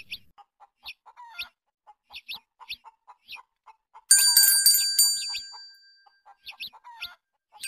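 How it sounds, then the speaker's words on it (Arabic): A small bell rings in short, light jingles again and again, close by, with a burst of clucking chickens partway through. "انا هاخد منك الجرس واقعد اتحرك كتير عشان هو يسمع صوتي"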